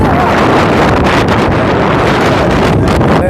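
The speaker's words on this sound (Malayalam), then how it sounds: "നല്ല കാറ്റല്ലേ? സൂപ്പർ കാറ്റ്." Strong wind at a wind farm near Ramakkalmedu roars loudly and continuously, buffeting the microphone with a dense, unbroken rush for the whole stretch.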